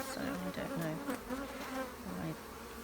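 Honey bees buzz at an open hive in several close, wavering tones that rise and fall as individual insects fly near, with no talking.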